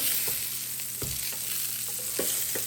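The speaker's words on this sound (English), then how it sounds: "I'm gonna go ahead and turn the burgers over." Hamburger patties sizzle steadily on a George Foreman grill, with a few light scrapes and taps as they are turned over, close and continuous.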